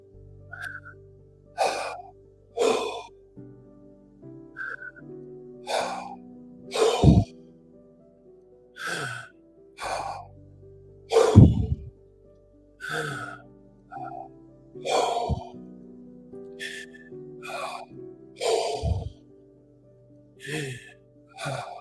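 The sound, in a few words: breathing in and out through mouth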